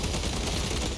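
Continuous rapid gunfire from the Warhammer 40,000 video game Space Marine 2, a dense unbroken burst of shots that stays loud and steady.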